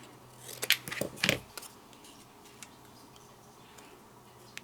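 Paper being cut with scissors for a gingerbread cubbies craft project: a quick cluster of close, crisp snips early on, then quiet handling.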